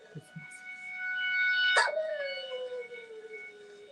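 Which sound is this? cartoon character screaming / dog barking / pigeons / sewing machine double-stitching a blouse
dog barking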